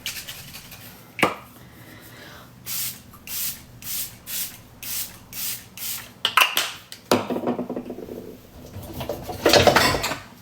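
Makeup setting spray is pumped in a series of about eight short, evenly spaced hisses close by, followed by a few longer, louder sprays.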